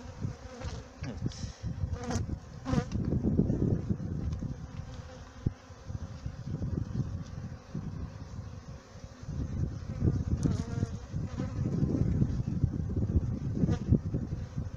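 Honey bees buzzing at an open beehive during a February frame-giving inspection, a dense continuous drone of many insects swelling and easing, with occasional close passes and faint handling noises.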